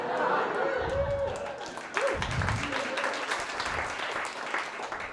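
A comedy club audience at a festival set claps and cheers after a punchline, the applause rising and then thinning as the comedian's voice and some chatter carry over it.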